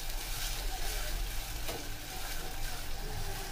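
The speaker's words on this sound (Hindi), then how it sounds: "चॉपर में डाल के इसे हम हल्का सा भून लेंगे प्याजों को" Chopped medium onions sizzle steadily in hot oil in a pan, a faint continuous frying hiss with occasional stirring, heard alone without talk.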